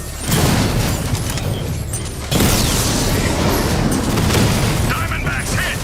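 The Diamondback tank in Batman Arkham Knight takes a hit, a loud booming explosion that cuts in with a sharp burst partway through, over dense rumbling game noise and mechanical clatter.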